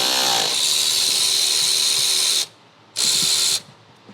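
A 10 millimeter ratchet or power tool works the bolt holding an ignition coil pack on an engine, a loud steady whirring run that stops, then a second short burst, with no talking.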